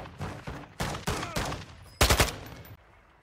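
Gunfire in Call of Duty Warzone rings out as a string of close, loud shots at uneven intervals, ending in a heavier rapid cluster before fading to quiet.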